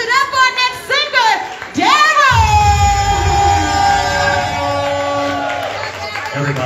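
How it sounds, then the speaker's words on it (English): Karaoke crowd cheering for the next singer: bright whoops and rising, voiced shouts rise over a rumbling backdrop of noise, loud and close, with voices talking and calling out throughout. "clap it up for our next singer"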